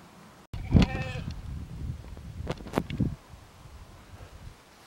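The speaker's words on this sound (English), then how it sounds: "Seem to be upsetting the sheep by coming here." Sheep bleating on an overgrown rural footpath during an August inspection walk, a loud close bleat followed by a few shorter calls over light wind and rustling.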